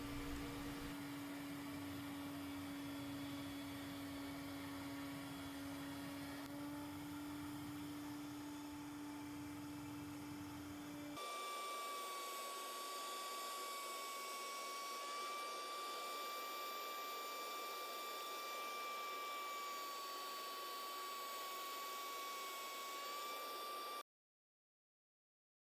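Router on a router table shaping wooden stool stretcher pieces with a jig, a continuous loud whine with a steady pitch that shifts partway through, running without pause and no talk until it cuts off.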